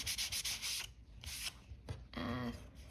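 Quick scrubbing strokes of a cloth wiping sandy grit off a sanded wood surface, several short close rubs in an uneven rhythm, soft and faint.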